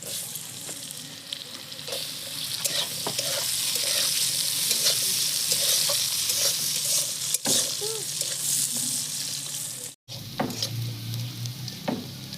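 Sliced potatoes and onion fry in a pan, giving a constant close sizzle while a spatula scrapes and stirs the pieces, with a brief break in sound near the end.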